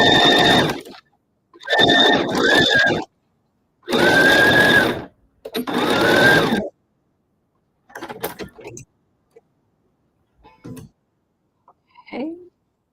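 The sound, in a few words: sewing machine stitching quilt binding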